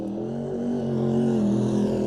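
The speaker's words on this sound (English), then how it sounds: "not bad here for the Q31, our New Zealand Super Stocker, Super Rods, whatever you want to call them" A New Zealand Super Stocker race car, the Q31, runs its powerful engine at a speedway with a steady, loud droning roar that holds throughout without pause.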